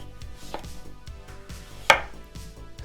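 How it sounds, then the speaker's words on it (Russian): A knife chops pumpkin into cubes on a cutting board, rhythmic dull thuds about twice per second with one sharper knock, close up and without talk. "И теперь тыкву делаем небольшими кубиками."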